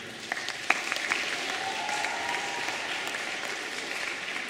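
An audience of children and young people at a Lenten retreat gives a few seconds of steady, even clapping that fills the room, with no one speaking over it.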